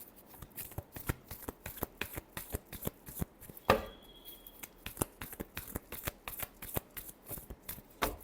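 Tarot cards shuffled repeatedly by hand, a quick rhythmic series of crisp riffling slaps and flicks, close and fairly quiet, with one sharper bridge-like burst partway through.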